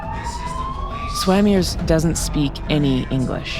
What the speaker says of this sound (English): You can hear the sirens outside.